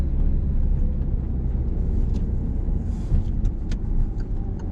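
A car engine accelerating during a driving lesson, a steady low rumble that holds on from near the cabin with a few faint clicks, and no one speaking.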